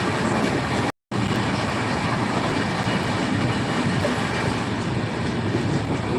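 A passenger train bound for Howrah, Kolkata, rumbles steadily along the rails with a dense, unbroken roar, cut by a single short dropout near the start.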